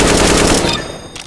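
Automatic rifle spray fire in a shooting video game, practicing spray control: a loud, rapid continuous burst of gunshots that runs for about a second and then trails off into a brief echoing tail.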